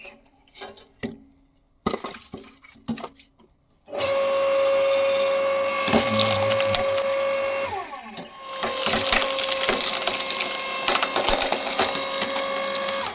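An AL-KO LSH 520/5 electric horizontal log splitter runs with a steady motor hum, cracking and crushing dry hornbeam logs with woody splintering snaps, after a few separate knocks and clatters at the start.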